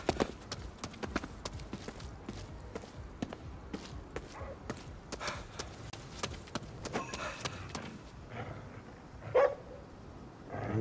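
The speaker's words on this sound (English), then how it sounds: "What's he barking at?" A dog barks in the video game Ghostwire Tokyo, a few sharp yaps scattered through clattering game sound effects, with one louder bark toward the end.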